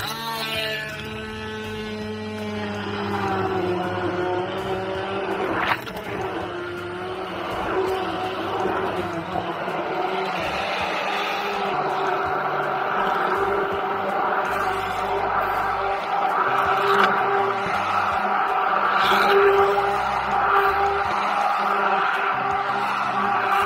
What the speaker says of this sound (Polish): I teraz idzie w ruch nasz blender.